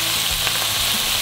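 Tuna skewers frying in hot oil for kushi-yaki give a steady, close, continuous sizzle and crackle with no pauses and no voices.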